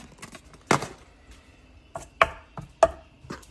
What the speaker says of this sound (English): let's see how hard it is to break these little biscuits up